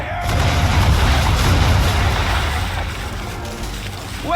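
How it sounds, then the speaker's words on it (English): Broadside of ship cannons firing round shot in the Assassin's Creed 3 naval battle, heard as a sustained rolling wall of loud low booms across the whole stretch, with a short creaking rise near the end. "Bring her round broadside, and when all guns are on target, call fire"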